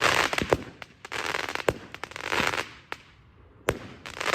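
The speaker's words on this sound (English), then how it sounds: "they decided to set fireworks off" Fireworks going off at night just outside a tent at a campsite in the Peak District, heard from inside the tent as a string of sharp cracking bangs at irregular intervals with crackling fizz between them, loud and close.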